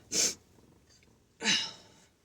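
Two sharp, close sneezes about a second apart, each a sudden burst of breathy noise, with quiet between them.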